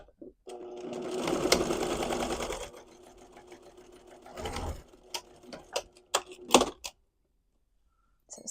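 A sewing machine back stitches a quilted tote bag seam with a quarter-inch allowance, running in a rapid whirring burst, then a shorter run and a few quick stitches before stopping.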